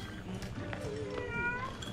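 A cat meows in the video game Hello Neighbor 2, with several short rising and falling tonal cries over a busy game soundscape across about two seconds, at moderate loudness.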